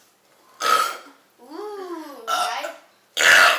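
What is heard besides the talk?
burping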